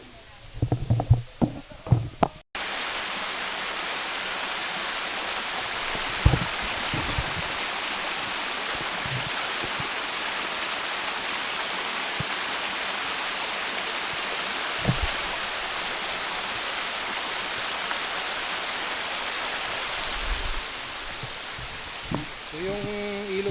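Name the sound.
mountain river flowing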